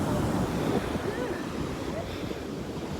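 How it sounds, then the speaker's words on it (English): Large ocean waves crash onto a beach during a grunion hunt, a continuous heavy roar of surf with wind buffeting the microphone. "you can see that the waves are like crashing so hard"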